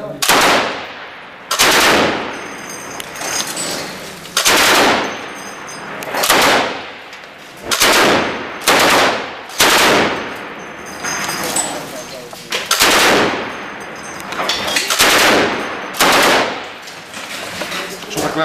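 Machine gun fire on a film set: repeated loud bursts of rapid shots, roughly a dozen over the span, separated by short gaps, with voices faintly present around them.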